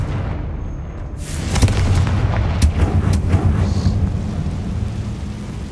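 A Confringo blast spell goes off in Hogwarts Legacy as a cluster of booming, crackling explosive bursts over a rumbling background, several sharp impacts in quick succession at close range.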